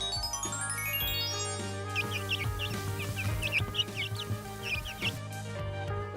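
Chicks cheep in high, rapid bursts over a steady low hum, several overlapping peeps close by, with a few lower clucking sounds mixed in.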